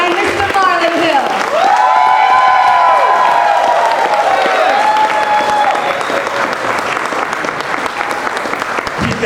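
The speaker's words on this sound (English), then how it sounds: "Keep those applauses going as we welcome our future county commissioner of" A crowd applauds and cheers steadily at a Miami-Dade campaign launch for Marlon Hill, the District 9 county commissioner candidate. Dense, loud clapping runs throughout, with whistles and whoops rising above it in the first few seconds.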